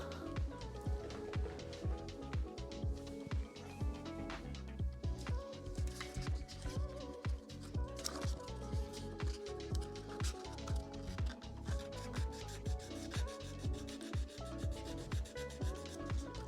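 A Warhammer miniature is rubbed with 1000 grit sandpaper in close, steady back-and-forth strokes. The scratchy sanding repeats in a quick, even rhythm with no talking.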